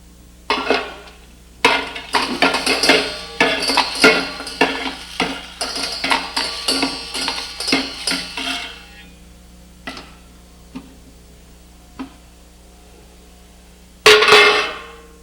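A hand-cranked egg beater whirs and clatters against a bowl in a steady run of rapid metallic rattling for about nine seconds, followed by a few isolated clinks and a final short burst.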